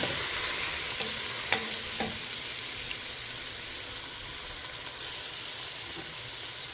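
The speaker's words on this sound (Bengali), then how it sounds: "দিয়ে দিচ্ছি পেঁয়াজ কুচি" Chopped onions fry with whole cumin in a pan for a lamb curry, giving a steady close sizzle broken by a few sharp stirring scrapes and clicks.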